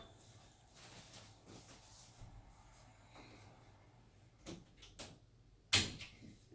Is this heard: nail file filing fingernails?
no